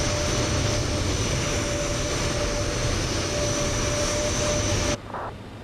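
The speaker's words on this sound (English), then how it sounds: "Someone landing, someone taking off." Jet airliner engine roar at a busy airport in Microsoft Flight Simulator 2020, a loud steady whine with a high tone that cuts off abruptly near the end, leaving quieter ambience.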